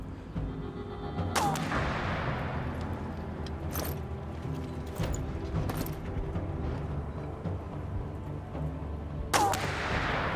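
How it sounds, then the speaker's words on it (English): Sniper rounds fire in the video game This War of Mine, a few sharp cracks spaced several seconds apart over a constant rumbling, droning war-zone background. "You can hear the sniper rounds going off in the background."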